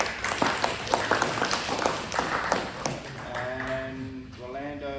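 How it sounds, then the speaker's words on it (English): Staff at a distribution services toolbox briefing give a short round of applause for a colleague's 18-year anniversary, a few seconds of scattered clapping that fades as a voice begins speaking. "So round of applause for Romero."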